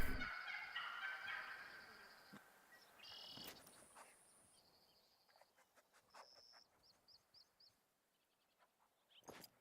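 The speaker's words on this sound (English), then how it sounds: "Turkeys." Turkeys gobbling in theHunter: Call of the Wild, a loud rattling gobble at the start, then fainter repeated gobbles and short calls spaced out over a quiet outdoor background.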